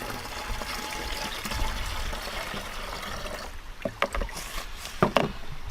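Liquid plant-control mixture gushes and splashes as it is poured into a container, a continuous watery rush that gives way to scattered drips and sloshes near the end.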